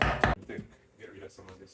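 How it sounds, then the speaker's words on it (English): A not very sharp knife finely cutting a carrot on a board, two loud close chops at the start followed by softer scraping cuts, with a person speaking faintly under them. "So we're basically cutting the carrot as fine as we can cut it"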